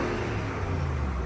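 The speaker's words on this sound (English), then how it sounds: "I'll just rev the car and check it's not the engine that's making the noise." A Range Rover L322 engine revs under an open bonnet, a steady, close low rumble rising in a smooth, even drone with no speech over it.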